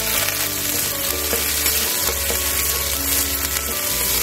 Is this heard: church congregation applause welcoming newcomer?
no